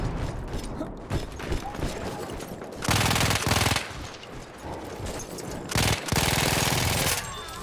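Short, loud bursts of machine-gun fire in Battlefield 1 multiplayer on Xbox One X cut through mechanical clanking and battlefield noise, arriving in several separate rattling volleys.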